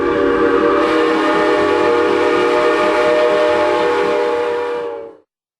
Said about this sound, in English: Give us a wave as the train goes by.